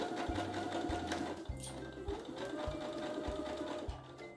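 A foot-pedal sewing machine stitches a dress in short regular bursts of steady humming, roughly one every half-second to second, close and clear with small pauses between runs.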